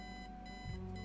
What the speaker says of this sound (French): Saloperie de réveil.